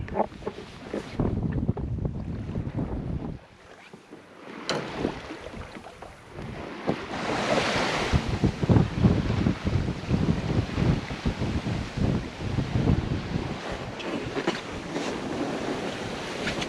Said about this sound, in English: now the wind's really picking up